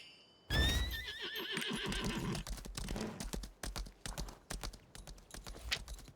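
A horse in the Lost Ark video game lets out a loud, wavering whinny, followed by a steady run of clip-clopping hoofbeats that continues to the end.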